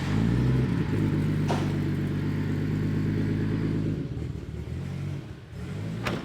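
A turbocharged Nissan S15 Silvia with an 8HP70 gearbox runs loud and close, a steady engine drone with harmonic bands that drops off near the four-second mark, then rises again into a lumpy tuned idle.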